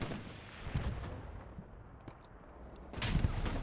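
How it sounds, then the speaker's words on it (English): Gunfire and explosive blasts from rockets hitting a Panzer IV tank during a Hell Let Loose match on Juno Beach, heard as distant, muffled battlefield booms and crackle rising to a louder burst at the end. "Looks like he's getting some rockets into the P4 there."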